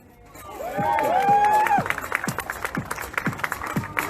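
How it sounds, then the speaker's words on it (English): Festival crowd at Leicester Riverside clapping in rhythm for a champion cyclist's stunt, steady evenly spaced claps building with cheering, while a loud rising whistle sweeps over the start. "Don't clap all the way through."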